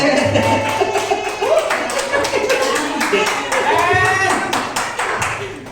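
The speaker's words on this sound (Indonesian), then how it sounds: "Boleh tepuk tangan buat Bu Amal dulu." A school meeting room full of people clapping steadily for several seconds, close and lively, with voices and chatter mixed in.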